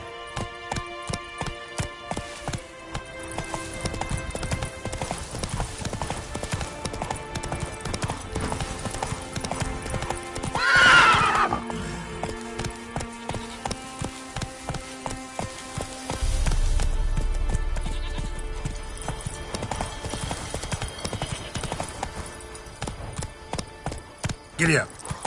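Roach the horse galloping in The Witcher 3, rapid rhythmic hoofbeats clopping close and steady through most of the stretch, with a brief whinny-like burst midway and a low rumble later.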